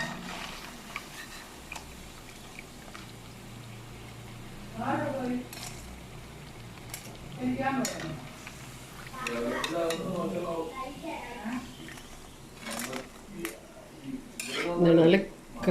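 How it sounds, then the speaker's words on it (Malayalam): Crisp urad dal pakoda lifted out of hot frying oil with a metal utensil, soft sizzling under scattered scraping and clinking of the spoon against the pan, growing busier and louder toward the end. "ഇനി നമുക്കിത് എണ്ണയിൽ നിന്ന് മാറ്റാം."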